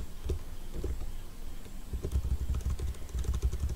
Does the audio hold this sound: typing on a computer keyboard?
yes